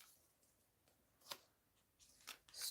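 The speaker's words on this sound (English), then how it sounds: "there's these two cards in here that don't want to shuffle" Tarot cards shuffled by hand during a live reading, quiet and close: soft riffling with a few sharp snaps and a brief flurry at the end, no talking.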